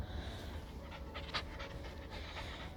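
A puppy pants after running around, quick rhythmic breaths close to the microphone, steady and fairly soft with no talking.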